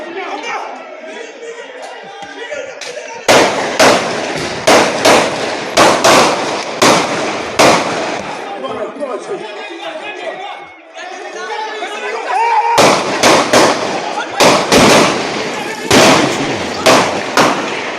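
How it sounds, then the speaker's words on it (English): Rapid bursts of gunshots fired at a gang member, coming in clustered volleys with pauses between, loud and sharp against a background of crowd chatter and voices. "They're actually shooting at the gangster"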